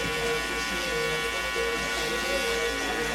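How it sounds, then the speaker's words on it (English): Electric hair clippers with the lever fully closed hum steadily and close up through a fade haircut around the ear, a continuous buzz with faint voices underneath. "we're gonna come in with the lever all the way closed on our clipper"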